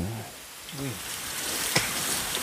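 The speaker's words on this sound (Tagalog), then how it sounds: "Kahit umuulan, panay ulan ngayon." Rain falls steadily in a forest, making a constant broadband hiss throughout, while a voice speaks briefly over it at the start.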